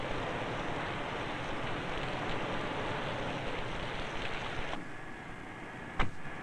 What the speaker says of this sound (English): Test the fit of windows, doors, and deck lid in this simulated downpour.